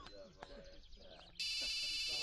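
Voices talk over a busy room, then a loud electronic phone ring abruptly starts and keeps going, shrill and steady.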